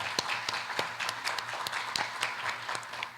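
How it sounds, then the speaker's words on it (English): Applause from the audience at a coastal ecosystems workshop, fairly faint scattered clapping with distinct individual claps, continuing steadily for a few seconds in a room without talk. "So let's give everyone a round of applause."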